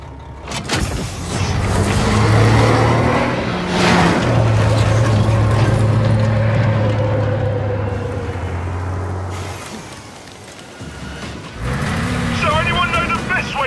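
A vehicle engine drones and swells steadily in the Gears of War 5 video game, a loud sustained rumble that fades toward the end with brief noises after.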